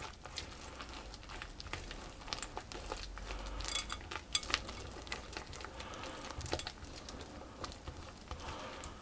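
Almonds and chocolate chips are stirred through gluten-free brownie batter in a bowl, giving soft, steady scraping and faint clicking with a few louder knocks near the middle; no one talks.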